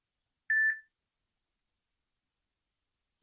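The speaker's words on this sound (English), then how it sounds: "That was my phone." A phone gives one clear, clean electronic beep, then falls silent, with a second short beep clipped at the very end. Both are close and loud, with no voices.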